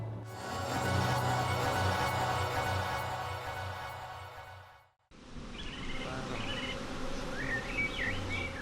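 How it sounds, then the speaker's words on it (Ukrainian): Dense buzzing from a honeybee swarm leaving a large hive fills the air, steady and close, with a brief drop-out midway before the droning hum resumes alongside faint chirps. "Ось того вулика, от великого цього вулика вийшов рой."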